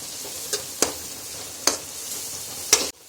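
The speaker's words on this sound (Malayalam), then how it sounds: "ഒരല്പം മഞ്ഞപ്പൊടി കൂടി ചേർത്ത് ഇത് നന്നായിട്ട് നമുക്ക് വഴറ്റാം" Onion, green chilli and turmeric sautéing in a pan for a tomato curry, a soft background sizzle broken by a few sharp spatula scrapes, ending in a sudden drop to quiet.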